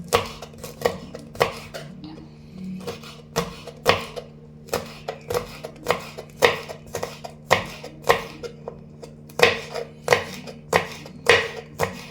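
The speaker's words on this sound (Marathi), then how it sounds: "चिकटा बारीक करता।" Beetroot being chopped finely on a board for bhaji, with a steady run of sharp, close knife strikes in quick irregular bursts and no talking.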